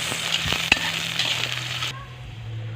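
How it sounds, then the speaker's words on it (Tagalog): Food being stirred in a pan for sinigang, with a soft sizzle and a few sharp utensil scrapes and clicks close by before the sound drops away. "Dayon ato na siyang imikos-mikos"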